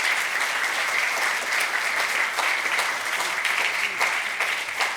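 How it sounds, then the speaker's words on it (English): Audience applause at a conference session, steady dense clapping from a crowd, fairly close and sustained for five seconds without letting up. "Round of applause for Michelle and Lana"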